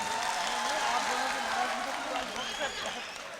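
Audience applause at a mushaira poetry gathering in Nuh Mewat, a dense wash of clapping that holds steady and then fades slightly, with some voices faintly underneath.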